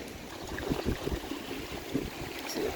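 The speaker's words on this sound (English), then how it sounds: "Pond is filling quickly today, and I've just noticed a waterfall" A small waterfall pours steadily into a filling pond on a Portuguese homestead, making a close, continuous rushing and splashing wash with no voices.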